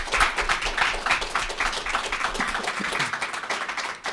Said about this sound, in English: Would you join me in giving both of our speakers a big round of applause?